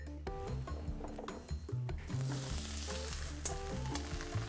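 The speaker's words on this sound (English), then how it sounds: "So now all we need to do is cook off this aubergine in some olive oil." Aubergine frying in olive oil in a pan, a close continuous sizzle that swells as pieces shift, with light knocks and stirring noises over a faint background hum.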